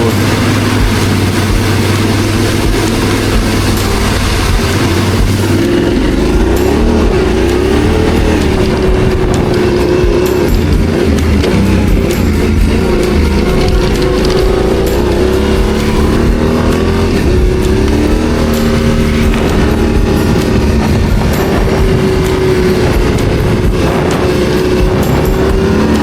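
A Yamaha Ténéré 700 adventure motorcycle being ridden on a hilly road in the Brindabellas, heard as a loud, steady engine drone mixed with heavy wind rush that rises and falls in pitch with throttle.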